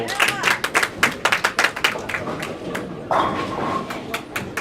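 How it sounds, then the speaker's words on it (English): Bowling alley crowd at a junior and adult bowling tournament clapping in quick uneven bursts, close and fairly loud, giving way to a softer rumble of activity. "it's very nice to see the crowd clapping at my, you know, calling of the match"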